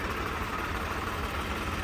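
A Shaktiman tractor engine idles steadily, a low rumbling drone with a constant hum, fairly loud and close throughout, no voices.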